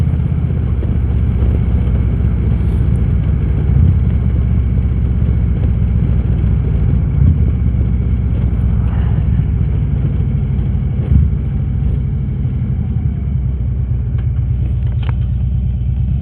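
A 2013 Harley-Davidson motorcycle engine while riding, a steady loud low rumble holding even throughout with continuous wind and road noise, no voices.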